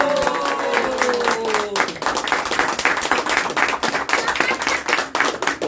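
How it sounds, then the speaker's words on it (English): Audience applause at a shloka recitation and speech competition, dense overlapping claps filling the space, steady and fairly loud throughout, with a faint tonal voice or chant fading out near the start. "deserves much louder applause"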